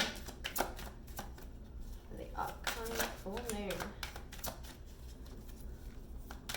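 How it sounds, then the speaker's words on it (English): Tarot cards being shuffled during a full moon reading, heard as brisk riffling and slapping bursts. Someone talks over parts of it. "Okay, final shuffle."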